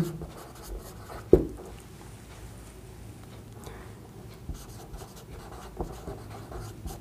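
Pen writing by hand during a geometry lesson on circle theorems: faint, quiet scratching across several seconds, with one sharp tap near the start and a few soft knocks later, no talking.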